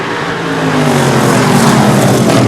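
Winged short track race cars roar loudly into turn 3, engines revving in a dense, close, sustained blare as they run side by side.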